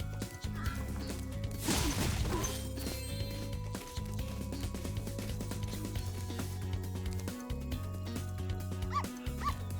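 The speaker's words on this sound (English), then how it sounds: "You telling me they haven't gotten new free use dog noises?" Dog barks and whimpers from a character in Spyro Year of the Dragon, a PS4 re-release, sounding over busy game music and battle noise, with a burst of yips and a crash near the start and scattered whines later.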